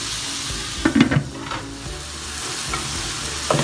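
Vegetables for Chinese fried rice are stirred and fried in a hot pan, giving a loud, constant sizzle broken by a few sharp scraping stirs.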